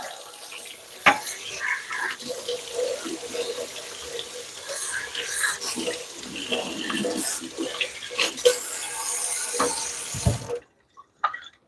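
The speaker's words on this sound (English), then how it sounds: "Got to wash this off. Give this a rinse." Tap water runs steadily into a sink as limes are rinsed in a home kitchen while pico de gallo and chicken wings are prepared, a close continuous splashing that cuts off abruptly near the end.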